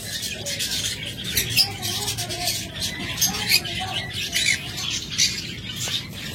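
Pet lovebirds and budgerigars for sale chatter and chirp together, a busy flock of small squeaks and tweets close by with soft pattering underneath, no talk over them.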